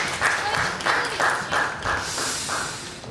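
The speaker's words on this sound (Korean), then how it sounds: "박수 한번 크죠. 한 번 더 크죠." A congregation at a Sunday church service applauds after children are seated, a steady wash of clapping with several swelling bursts over about three seconds, moderately loud and fairly close.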